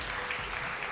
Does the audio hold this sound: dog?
no